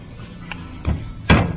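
A flat screwdriver pries the cover off a wheel hub on a Mitsubishi Adventure, giving a few sharp close metallic knocks and a final loud pop as the cap comes free.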